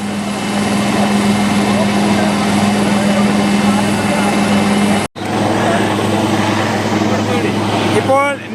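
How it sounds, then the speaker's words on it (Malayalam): A navy helicopter on a disaster rescue operation in Wayanad, Kerala, drones loudly and continuously nearby, its steady engine roar broken by one brief cut, with a voice talking over it. "നേവിയുടെ ഹെലികോപ്റ്റർ എത്തിയിട്ടുണ്ട് ഇപ്പോൾ രക്ഷാപ്രവർത്തനം നടത്തുന്നതിന് വേണ്ടി നേവിയുടെ ഹെലികോപ്റ്റർ എത്തിയിരിക്കുകയാണ്"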